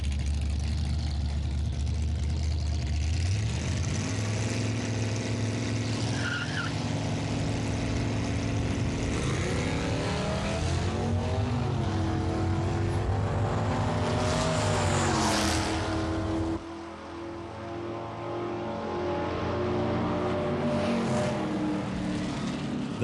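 Two muscle cars, a '69 gold Grand Prix and a '64 Ford Galaxy, launch at a drag strip with loud, sustained V8 roars that rise in pitch through the gears, then drop abruptly as one engine lets off.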